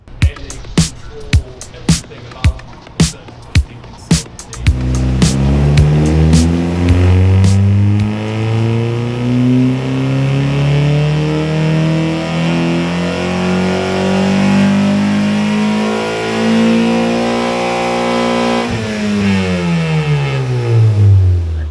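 A few sharp clicks, then a K24-swapped Honda Fit engine revs hard into VTEC, its pitch climbing steadily, dipping, and rising again in a loud, sustained sweep.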